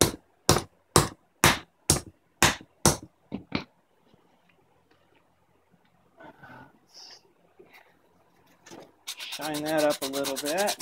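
Close, rhythmic rubbing strokes polishing a copper pipe battery terminal by hand, about eight evenly spaced scrubs, then quiet handling noises and a final loud grinding burst.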